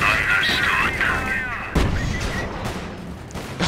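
Tank cannon fire in a Company of Heroes World War I mod strikes a German Panzer female: one heavy, sharp shot cuts through a dense din of battlefield rumble and engine drone.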